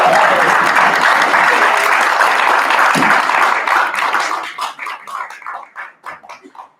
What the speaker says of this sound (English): let's give one more hand of applause for Gyra, please.